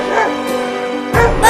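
A cartoon dog barks twice, loud and close, in quick succession after a sustained tonal note.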